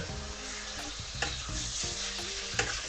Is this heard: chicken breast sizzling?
yes